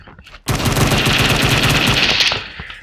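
Rapid automatic gunfire from a G7 gun addon in Minecraft, a loud continuous burst of closely spaced shots lasting about two seconds after a brief quiet start, then cutting off.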